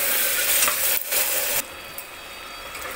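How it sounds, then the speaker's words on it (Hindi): Mutton with yogurt being stirred and fried in a pan for dudh korma: close, steady sizzling broken by scraping strokes of a spoon, then a softer hiss as the stirring pauses. "अब इसमें डालेंगे 2 चम्मच दही और इसको भी चलाते हुए भूंज लेंगे अच्छे से"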